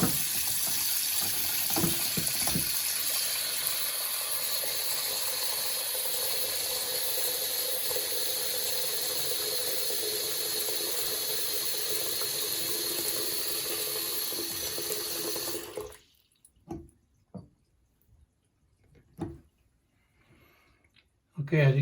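Water runs steadily from a Delta faucet into a sink after an o-ring and spring repair, a continuous broadband rush that stops abruptly, leaving only faint clicks and handling noises.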